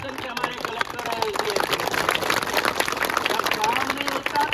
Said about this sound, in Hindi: तालियां लगनी चाहिए तो प्रशासन के,